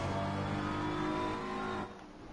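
A BMW M4 race car engine in Assetto Corsa Competizione at Brands Hatch, a loud sustained high-revving drone that drops off sharply near the end, close and alone.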